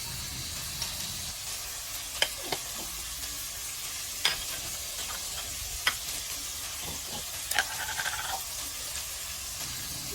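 Gintaang kalabasa, squash with string beans and a little meat, sizzles steadily in a frying pan while a utensil stirs it, with scattered sharp clicks and scrapes against the pan over the constant frying hiss.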